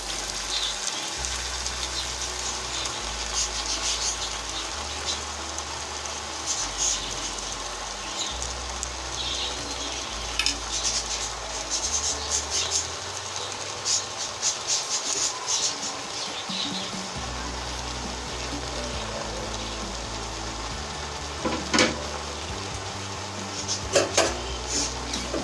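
Amaranth leaves stir-fry in a pan with a continuous sizzle and occasional scraping clatters, all under a low, blocky mechanical hum, with no talking.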